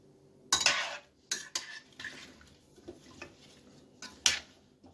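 A spoon scrapes and knocks inside a pot of mashed potatoes cooked with milk, several sharp clinks and scrapes in irregular bursts with quiet gaps between, close and fairly soft.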